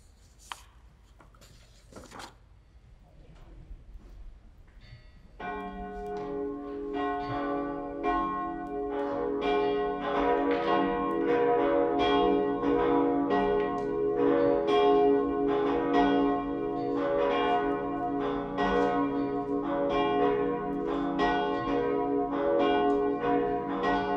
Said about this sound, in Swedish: låt oss nu lyssna till klockringningarna